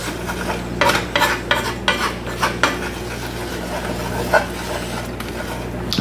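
A spoon scrapes and stirs flour into a thickening paste in a pan at a country-style breakfast stove, making soft rubbing, scraping strokes with a few louder clinks against the pan over a steady low hum.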